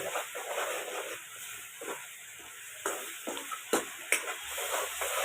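Spices and tomato puree frying in oil in a pan for a sprouted moth bean curry, a steady close sizzle broken by occasional sharp spoon scrapes and taps as the masala is stirred.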